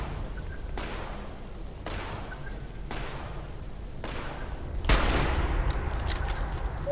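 Gunfire in the video game Fallout 76: four or five sharp single shots spaced about a second apart, the last one louder and followed by a sustained noisy wash.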